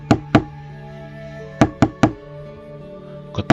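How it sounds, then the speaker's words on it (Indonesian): Seven sharp knocks on a door in a horror story, struck in irregular clusters of two and three with pauses between, loud and close over a low, eerie sustained drone. "Namun saat dia mendekat, ketukan itu semakin keras."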